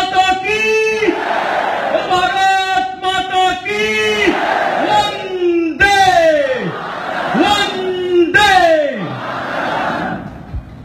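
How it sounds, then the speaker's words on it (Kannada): A large crowd at a chariot procession inauguration loudly chants a victory cry to Mother India, about five rising-and-falling shouted calls repeated rhythmically, near and strong. "ಒಮ್ಮೆ ಭಾರತ್ ಮಾತೆಗೆ ಒಂದು ಉಚ್ಚಕಂಠದಲ್ಲಿ ಜೈಕಾರ ಕೊಡೋಣ"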